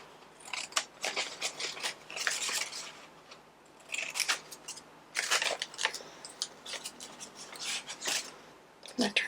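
Scissors cutting through a paper stamp for a collage, a close series of crisp snips and rasping paper scrapes in irregular bursts, no talking.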